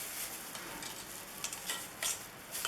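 Flour is stirred into cupcake batter with a continuous soft scraping and swishing texture and occasional small clicks of the utensil against the bowl, close and fairly quiet.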